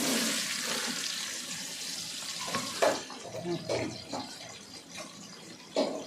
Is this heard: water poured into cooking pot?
yes